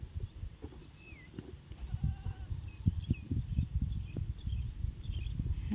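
A goat bleats faintly on a grass pasture, its thin cries sitting over closer low knocks and rustling movement.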